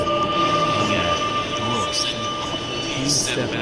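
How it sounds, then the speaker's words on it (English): An automatic subway train arrives at a platform with a steady low rumble and rushing air, while a recorded voice makes announcements over the noise. "The train is now arriving for York."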